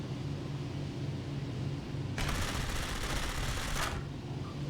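Aircraft guns fire in War Thunder, a single dense burst of rapid shots lasting under two seconds that cuts in mid-clip over a steady low engine drone and then stops.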